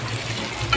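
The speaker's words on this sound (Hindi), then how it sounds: "अच्छे से हिलाना ताकि इसे मिक्स हो जाए।" Chicken korma is stirred in a pan, a steady close wet swishing and sizzling texture that runs without a break for a moment, moderately loud.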